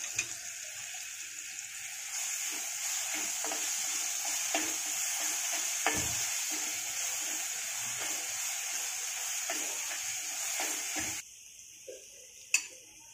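Ajwain, turmeric and ground chili paste fry in hot oil for spicy Kolhapuri kat vada, a steady close sizzle with scattered ticks and stirring scrapes, which cuts to quieter sputtering near the end.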